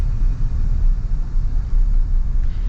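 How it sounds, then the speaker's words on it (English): A steady low rumble of tires rolling on pavement fills the cabin of a moving 2026 Toyota Tundra Limited pickup truck, constant and fairly loud with no talking. "You do get a bit of tire noise and everything."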